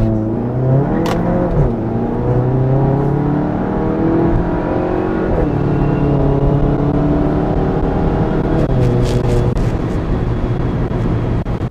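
VW MK7 GTI accelerating hard from a standstill, the engine note climbing steadily through the gears, loud and continuous, heard from inside the car.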